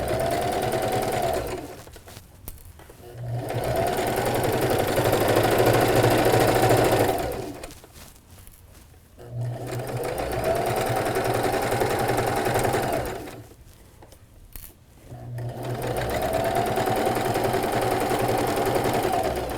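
A sewing machine stitching a fabric bag runs in three long bursts of rapid, steady mechanical whirring, separated by short pauses, close and loud with no talk.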